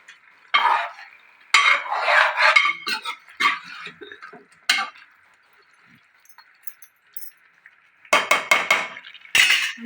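A spoon stirs chicken curry in a pan with loud, close scraping bursts in irregular clusters, separated by quiet pauses and soft sizzling.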